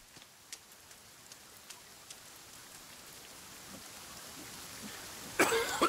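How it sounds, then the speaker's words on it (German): Rain in the survival video game The Forest, a soft, steady hiss of falling drops with a few faint taps and a short louder burst near the end, and no talking. "ist das laut durch den Regen jetzt hier"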